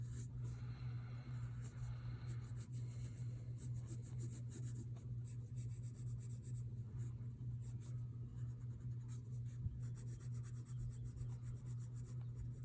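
A pencil shades a dark shadow on paper, a soft, continuous scratchy rubbing of graphite strokes, close and quiet, over a steady low electrical hum.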